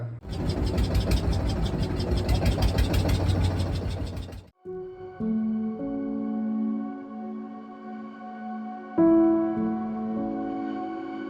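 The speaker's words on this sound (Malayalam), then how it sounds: "എഞ്ചിനിൽ നിന്നുള്ള ശബ്ദം ഭയങ്കര ഉച്ചത്തിലാണ് കേട്ടോ." Loud, rough boat engine rumble pulses for about four seconds on the Sharavathi river backwaters at Honnavar, then gives way to steady tonal humming that swells again near the end.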